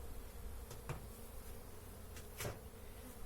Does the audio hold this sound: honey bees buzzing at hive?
yes